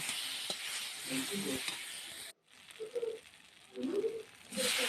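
Potatoes frying with onion, chilli and ginger paste in a pan, a soft continuous sizzle with bursts of stirring scrapes, broken by one brief silent gap, close and quiet.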